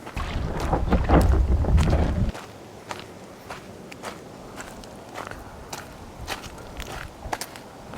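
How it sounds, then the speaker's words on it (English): Footsteps crunch and squelch on soft wet tidal flats of the Bay of Fundy at a steady walking pace, after a brief burst of wind buffeting the microphone. "Still walking."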